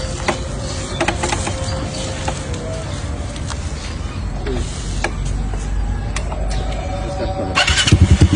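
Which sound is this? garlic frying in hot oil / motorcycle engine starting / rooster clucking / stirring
motorcycle engine starting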